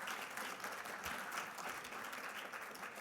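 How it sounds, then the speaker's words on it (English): A gala audience at a 20th anniversary event claps for a congressman: a dense, even roar of many hands heard from a distance, fairly soft and unbroken for the whole stretch. "Give him a round of applause."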